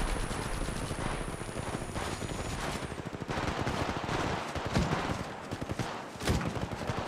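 Video game gunfire in Apex Legends Mobile, with steady rapid-fire bursts crackling throughout, moderately loud and continuous with brief dips in intensity.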